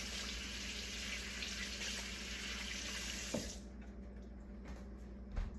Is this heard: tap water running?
yes